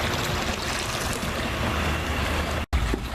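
A paddle churns swimming pool water as part of cleaning a green pool, giving a steady, close sloshing and swishing wash that runs continuously, with a brief dropout near the end.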